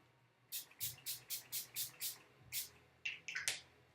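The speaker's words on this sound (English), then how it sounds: "we're gonna begin with some setting spray." A rapid series of short makeup setting spray bursts, about ten quick hisses in a row, close and fairly soft, followed by a few uneven spritzes.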